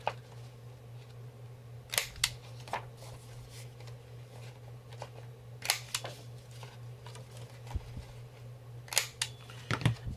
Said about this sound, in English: I am going to take my corner rounder and corner round just the bottom half.